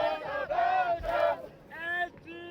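Belgian junior surf team shouting a team cheer chant at a surfing championship, a few loud group voices in rhythmic, sung-out bursts with short pauses between phrases.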